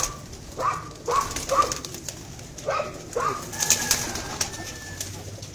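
Kasuri pigeons in a rooftop breeding setup give soft repeated cooing calls in short bursts, close and clear, with a few higher chirps and light rustling between.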